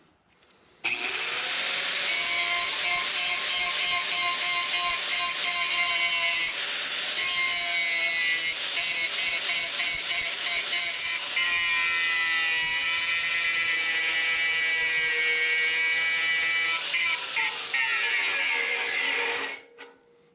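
A Bauer 1966E-B angle grinder fitted with a cutoff wheel spins up and runs loud and steady with a high whine for about eighteen seconds, then winds down.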